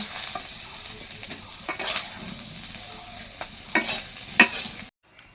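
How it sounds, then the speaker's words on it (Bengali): Prawns fry lightly in a pan with a close, steady sizzle and occasional utensil stirring and scraping before the sound cuts off abruptly. "চিংড়ি মাছটা আগে প্রথমে একটু হালকা করে ভেজে নিচ্ছে"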